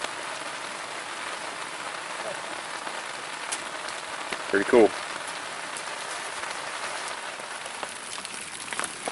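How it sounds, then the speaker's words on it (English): Steady rain patters on a surface close by at a bushcraft tarp camp, a continuous hiss of drops, with a brief spoken remark partway through. "as you might be able to tell, it's raining."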